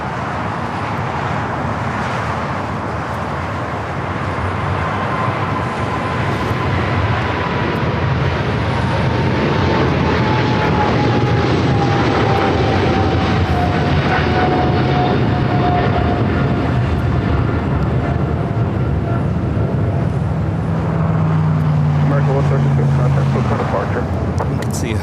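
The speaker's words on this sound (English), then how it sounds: "American flight heading to London Heathrow, 777 at 300ER, rolling down at 25 right" A Boeing 777-300ER bound for London Heathrow rolls down runway 25 right at LAX with a loud, sustained jet roar that swells and persists throughout, a rising whine threading through it and faint voices beneath.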